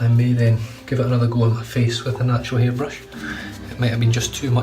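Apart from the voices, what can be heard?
No distinct noise like a dog, phone or traffic.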